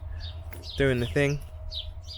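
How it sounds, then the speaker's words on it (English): Sparrows chirp in a winter garden near a flowering winter honeysuckle, with light, scattered tweets around a person talking nearby. "there's sparrows going crazy up there."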